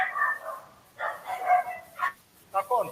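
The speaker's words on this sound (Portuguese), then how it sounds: "o cachorro latiu" A dog yips and barks a few times nearby in short bursts, separated by brief gaps, during an indoor interview setting.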